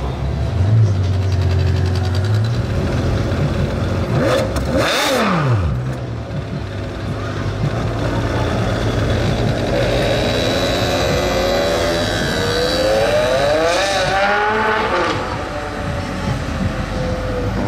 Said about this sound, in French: Les valves se sont ouvertes, c'était magnifique.